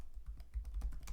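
Quick bursts of keystrokes on a computer keyboard, a run of about eight close, soft clicks in an uneven rhythm with no one speaking.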